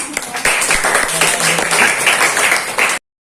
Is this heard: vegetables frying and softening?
no